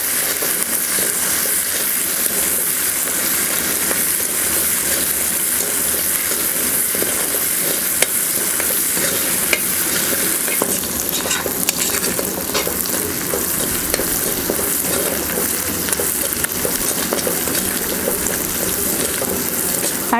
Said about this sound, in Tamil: அடுத்தது நம்ம கட் பண்ணி வச்சுருக்க சின்ன வெங்காயத்தை சேர்த்துக்கலாம்.